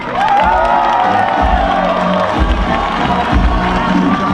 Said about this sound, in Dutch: Een applaus voor Kevin.